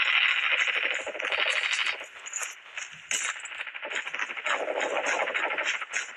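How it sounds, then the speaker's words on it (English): Rapid automatic gunfire crackles in the Call of Duty Mobile battle royale, rattling in fast continuous bursts with brief lulls, loud and close. "Okay, there are gunshots."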